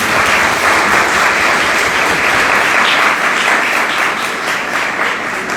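An audience applauds after a lecture on generative AI and immersive technology, dense sustained clapping from many hands filling the room, loud and continuous before tapering slightly.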